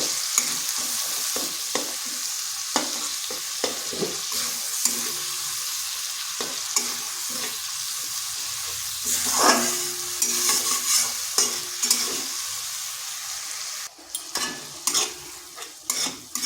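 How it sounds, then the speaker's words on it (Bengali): Spice paste stir-fried in a pan for a Bengali rohu fish curry with eggplant and potato: a steady, close sizzle broken by frequent spatula scrapes and knocks against the pan, with no talking. "এরপর দিয়ে দিচ্ছি মশলাটা। এটা মশলাটার সাথে ভালো করে একটু কষিয়ে নিচ্ছি।"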